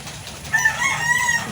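Hens cluck and call in short, high, wavering notes over a low background hum, close by and fairly loud.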